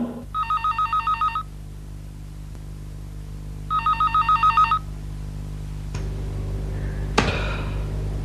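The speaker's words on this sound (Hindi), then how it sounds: "कम ऑन साइमा, उठा लो फोन" A telephone rings twice in bursts of rapid trilling, with a quiet pause between; a couple of clunks and a bump follow, no talking.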